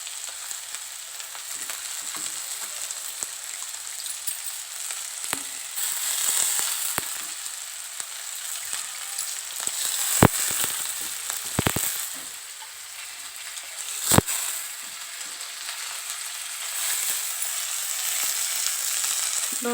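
Fenugreek leaves fry with broad beans in a pan, giving a steady bright sizzle throughout, broken by a few sharp clicks and stirring scrapes, close and constant.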